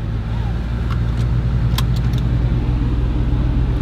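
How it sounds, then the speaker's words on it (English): A Nissan 350Z's deep, throbbing exhaust idles steadily with a pulsing low burble, punctuated by a few brief clicks and rattles, close by. "See how this exhaust sounds."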